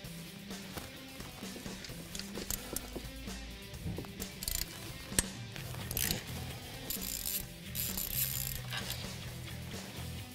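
Ratchet wrench removing bolts from a Ford Mustang engine during a Roush supercharger install, heard as faint, intermittent clicking pawl ratchets and metallic clinks close by in a quiet garage.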